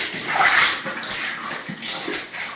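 Water sloshing and splashing as a handmade quilt is rinsed by hand, a steady close wet swishing with brief surges, like a bathtub filling, throughout.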